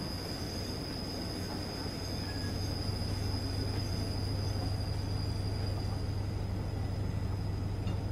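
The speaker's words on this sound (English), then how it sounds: "we really are going to propel them back up through the yard" A BR294 diesel locomotive in Train Simulator 2016 propelling wagons back through a yard on the Munich–Augsburg route, a steady low engine drone under continuous rolling rail noise with a faint high wheel squeal.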